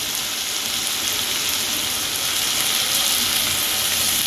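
Ground chilli paste and green chillies fry in hot oil for a Bengali amudi fish curry, making a loud, continuous hiss that stays even and unbroken throughout, with no talk.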